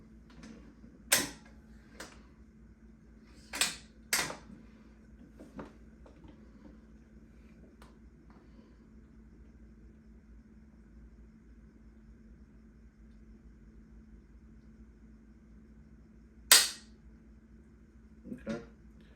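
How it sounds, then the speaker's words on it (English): A Browning Medallion rifle trigger being dry-fired: a few sharp, crisp metallic clicks and snaps, close and isolated, separated by long quiet gaps with a faint hum behind them. "Now I'm gonna go ahead and dry fire it, see how it feels."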